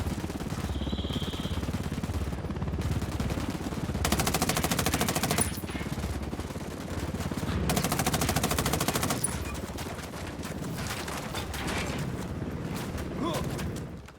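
Machine gun fire from Ghost Recon: Wildlands rattles in long, sustained automatic bursts, loud and continuous with denser stretches, while voices and game sounds run underneath.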